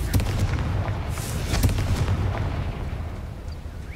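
A Confringo fire spell blasting in Hogwarts Legacy, a rumbling, crackling burst of explosive booms with scattered sharp pops that gradually fades into a low roar.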